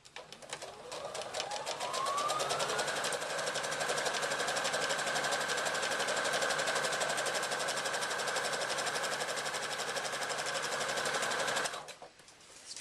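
A sewing machine stitches a handbag seam, joining two sections all the way around; the motor whirs up quickly and then runs at a steady, fast, even buzz for about ten seconds before stopping abruptly.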